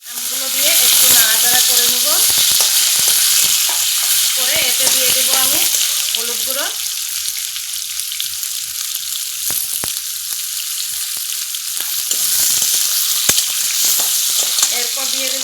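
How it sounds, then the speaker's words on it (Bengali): Raw mango pieces go into hot oil with mustard seeds and dried red chilli, setting off a loud, close, continuous frying sizzle with stirring clatter. A voice speaks briefly early on. "দিয়ে দেবো গোটা সরিষে এরপর দিয়ে দেবো কেটে রাখা আমগুলো"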